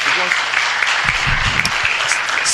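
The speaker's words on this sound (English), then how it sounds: "Let's give a big round of applause." An audience at a city council meeting gives a round of applause, with a dense, sustained clatter of clapping at moderate volume and a few voices mixed in.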